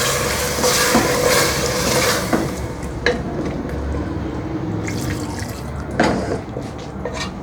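Water is poured into a pan of potatoes cooking for aloo methi, giving a steady wet sizzle and splashing with a few sharper drips and clinks throughout, close and fairly loud with no talking.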